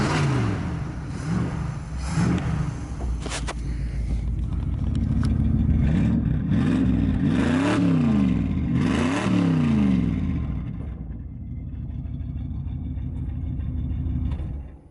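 A 1973 Dodge D100 pickup truck engine runs steadily nearby, with a deep rumbling idle that climbs through several revving surges before settling back to a lower, even idle.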